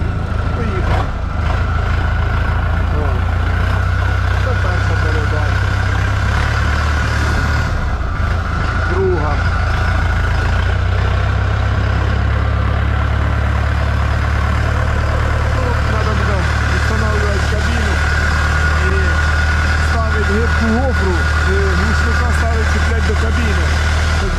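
Scout TE-504 tractor diesel engine running while driving, a loud steady low rumble close by throughout, with someone talking over it at times.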